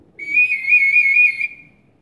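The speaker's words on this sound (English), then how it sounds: "I carry the single whistle together with my belt knife" A single metal whistle, an old conductor's whistle, gives one clear, sustained shrill blast of about a second, loud and close against a quiet background.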